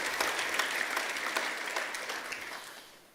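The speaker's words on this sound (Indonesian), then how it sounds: "Kita beri tepuk tangan untuk kebenaran ini." A church congregation breaks into applause, a dense stream of overlapping claps that holds steady, then tapers off and fades near the end.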